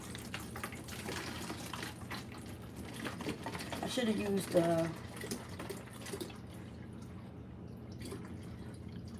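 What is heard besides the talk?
water pouring into container in sink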